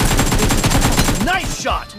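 Rapid AKM rifle fire in a mobile shooter game, a fast burst of close, loud shots in steady rhythm, followed by a couple of short effect sounds.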